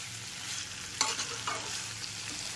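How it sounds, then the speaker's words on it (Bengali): Soya chunks and potatoes frying with spices in a pan, a steady close sizzle broken by a few sharp scraping knocks of a stirring spoon, with no voices. "সয়াবিন আর আলুটাকে ভালো করে মশলার সাথে ভালো করে কুক করে নিতে হবে।"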